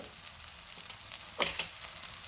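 A masala paste of raw onion with powdered spices such as turmeric and cumin fries in a pan, a soft steady sizzle with a brief brighter crackle as it is stirred.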